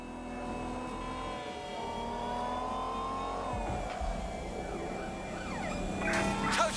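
A car engine in the Watch Dogs Legion video game revs and climbs in pitch, then drops and surges again, loud and close throughout with no talking.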